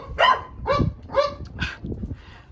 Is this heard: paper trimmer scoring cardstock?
no